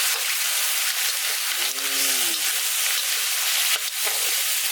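Surf clams stir-fry in a hot pan outdoors, giving a steady, loud hiss of sizzling oil that runs unbroken, with a brief faint scrape of stirring partway through.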